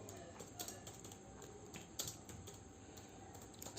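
A computer keyboard being typed on while entering HTML code: a fairly steady run of close, light key clicks with a few sharper taps, over a faint room background.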